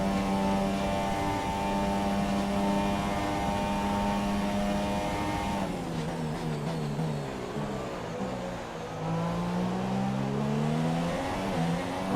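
A Formula 1 car screams at high revs during a Chinese Grand Prix in F1 2017, its tonal engine note holding steady, then dropping and climbing again through downshifts and acceleration, loud and continuous with no voices.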